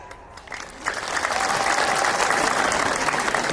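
A church congregation bursts into applause, many hands clapping in a dense, sustained roar that swells after a quiet moment, with a brief voice near the start.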